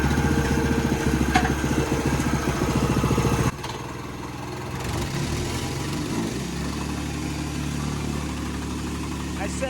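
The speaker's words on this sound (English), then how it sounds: "We got the rented tamper here almost working again" A rented ground tamper's engine runs loud and close, chugging with a rapid, steady thump, then drops abruptly to a lower, rougher idle that keeps going.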